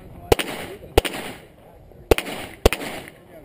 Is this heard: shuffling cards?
no